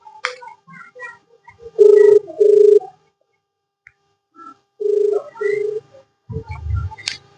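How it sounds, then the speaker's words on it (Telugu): Phone call ringback tone heard through a handset speaker: repeated electronic ring bursts with pauses between them, fairly close, with brief background sounds before and after. "రింగ్ అవుతుంది."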